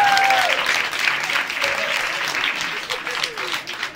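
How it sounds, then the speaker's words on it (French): A comedy club audience applauds steadily, a dense wash of clapping that carries on for the whole stretch. "applaudissez-la"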